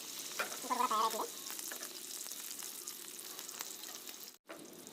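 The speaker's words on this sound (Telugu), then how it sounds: "ఇంకో 2 అయ్యి ఈ రకంగా మనం ఫ్రై చేసి పెట్టుకున్నాం కాల్చి." Fish fries in a pan for a fish biryani, giving a steady close crackling sizzle at moderate volume with a few pops and one brief cut in the sound, with no talking.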